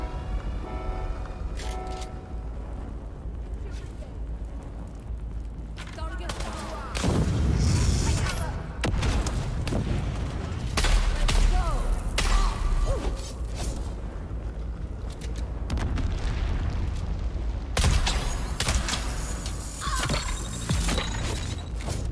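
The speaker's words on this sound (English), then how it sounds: "I don't really want to be near the big explodey thing." A large explosion in the video game Dune: Awakening booms loud and close amid rumbling, creaking mechanical noise and sharp gunfire-like cracks throughout, with a voice speaking briefly.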